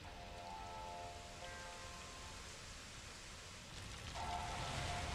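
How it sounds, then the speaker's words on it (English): Steady rain pours in a video game cutscene as storm clouds break open, a dense even hiss that swells slightly louder toward the end, with faint tonal music threads underneath. "Ominous clouds, torn apart, unleashing a torrent of rain."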